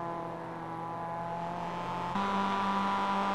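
Race cars in a video game run nose to tail in close racing on the Indianapolis road course, a steady engine whine that shifts abruptly to a louder, lower tone partway through.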